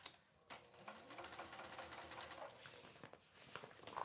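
A sewing machine stitching a large jumbo fabric bag, running in a steady rapid whir that pauses briefly near the start and again toward the end, close and moderately loud with no talking.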